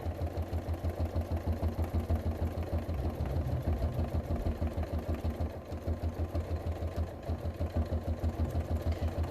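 A sewing machine doing free-motion bobbin work, running in a fast, steady rhythmic chatter with brief pauses, close and continuous without talk.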